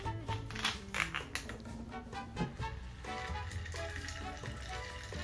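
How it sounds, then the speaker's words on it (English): Sprite from a fountain-style bottle is splashed into a tequila and cognac punch, a few seconds of close liquid pouring and fizzing with irregular splashy bursts at first, then a steadier stream. "You put a little splash of Sprite."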